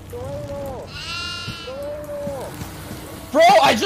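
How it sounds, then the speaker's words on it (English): Goats bleating inside the Devour horror video game, several drawn-out wavering bleats in sequence over steady rain-like game ambience, with people talking over them near the end. "We need hay. There's two goats here."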